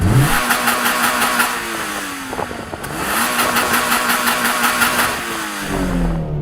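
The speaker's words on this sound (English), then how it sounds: "So I'm going to rev up this car" A Toyota GR86 sports car engine revs up hard twice, climbing in pitch with each burst and dropping back between, loud and close with no voices.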